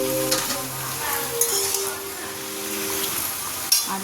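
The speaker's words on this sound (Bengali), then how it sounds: "এবার এর মধ্যে এই কেটে রাখা সবজিগুলো সব দিয়ে দেবো।" Chopped vegetables fry with already fried prawns in a pan, a steady soft sizzle with occasional stirring scrapes and a faint tonal hum in the background.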